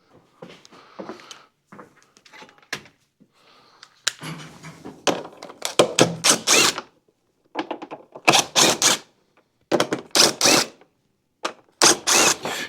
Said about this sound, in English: Just 4 5/16 bolts. Take the top off.